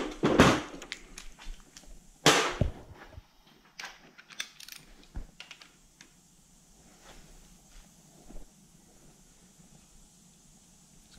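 Power bar and socket turning on a Toyota 1UZ-FE V8 engine during a cambelt replacement: a loud metallic clank at the start and another at a few seconds in, followed by fainter clicks and rattles scattered through a quiet stretch, close by, no talking.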